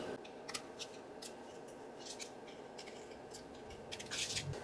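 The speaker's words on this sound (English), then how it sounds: "Let me trim this up right here. I'm going to use my smaller scissors." Small scissors trim a decorated paper card for a collaged flip tag, giving quiet, repeated snips and light paper rubbing over a low steady room hiss, with a slightly fuller cut near the end.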